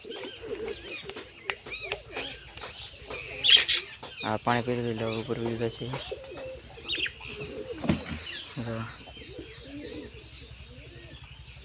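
Pigeons coo and chirp close by in a coop, soft repeated throaty calls with a brief wing flutter, while someone speaks over them.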